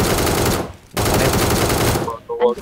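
Rapid automatic gunfire in an online shooter game, loud sustained bursts with a brief pause between them, ending in a flurry of game sound effects.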